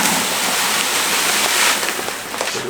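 Granular Trophy Rock mineral mixture pours steadily onto the ground outdoors, a loud continuous rushing hiss that holds for nearly three seconds and eases off slightly near the end.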